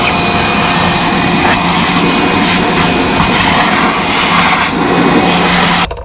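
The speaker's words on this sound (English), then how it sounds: "I'm gonna get the shop vac and clean this up." A shop vacuum runs continuously, cleaning up drilling debris during a boat fish finder installation, with a loud, steady roar that cuts off at the end.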